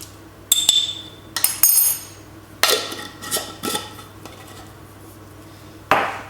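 Metal spoon stirring chili seeds into a pasta and meatball dish in a baking tray, with several sharp clinks and scrapes against the dish spread irregularly over a few seconds, close and fairly loud with no talking.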